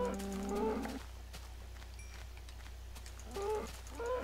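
Cows moo in a blocky survival video game, with several short lowing calls at the start and end and a quiet steady hum in between, no speech.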